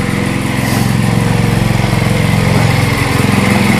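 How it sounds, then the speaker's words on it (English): A small gasoline snowblower engine runs at a steady idle, with a loud, close, continuous rhythmic putter and no other sounds. "So let's go take a look at the snowblower."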